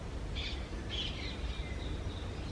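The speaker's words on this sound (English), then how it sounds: "Listen to the birds singing, isn't it beautiful?" Birds sing in a garden, a few short chirping phrases rising over a steady low background rumble, fairly faint and with no talking.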